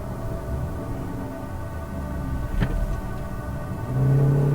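Small 2012 Scion iQ car being driven through turns, its engine a low steady rumble inside the cabin that rises into a louder hum near the end, with no talk.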